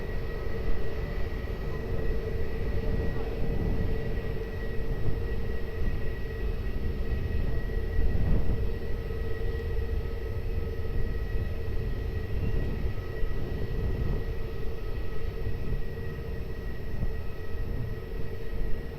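An aircraft landing on runway 20 at Lisbon Airport produces a continuous broadband engine roar with steady whining tones, holding at a fairly even loudness throughout with no voices on top.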